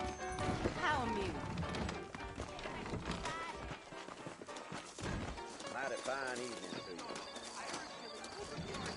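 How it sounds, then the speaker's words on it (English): Saddled horses clip-clop in Red Dead, hooves thudding irregularly beneath loud character dialogue, with a whinny and clattering knocks mixed among the talking voices. "I got the horses saddled up and ready out front."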